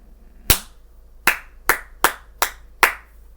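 Six sharp hand claps ring out alone and close, the first followed by a pause and the remaining five coming in a quicker, slightly uneven rhythm.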